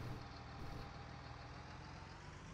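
A tractor engine in the video game Farming Simulator 19 runs at a steady drone, a low, even rumble holding for the whole stretch without voices.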